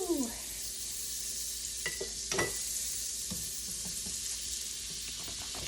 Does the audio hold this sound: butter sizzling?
yes